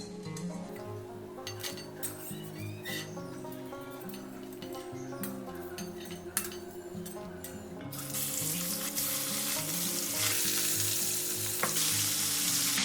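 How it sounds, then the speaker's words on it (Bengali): Bori lentil dumplings frying in mustard oil make a continuous crackling sizzle that grows louder and denser partway through, with occasional utensil ticks and no speech. "সর্ষের তেল দিয়ে আমি এখন বড়িটা ভেজে নেবো"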